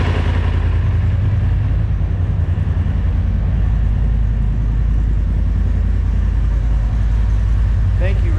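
A Polaris RZR engine, freshly replaced under warranty and filled with high-zinc additive and 550 synthetic oil, runs loud and close with a steady low rumble throughout.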